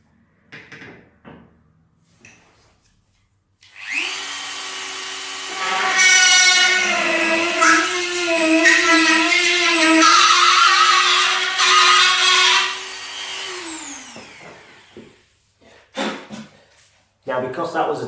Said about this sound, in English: now I can drill a hole in the base for the same size as the locating peg.